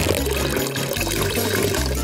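Water pours steadily from a small piggy-shaped water dispenser, a continuous close splashing flow with no talking over it.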